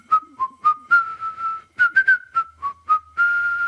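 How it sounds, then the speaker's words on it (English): A person whistles a melodic tune with clear sustained and stepped notes in short phrases, close and alone, ending on a long held tone. "how many times do I have to ask you not to whistle that awful tune?"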